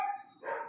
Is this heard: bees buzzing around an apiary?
no